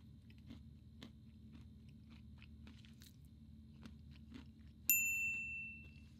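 Candy being eaten up close, with soft crunchy bites and chewing repeating about every half second under a steady low hum, then a bright ringing ding near the end.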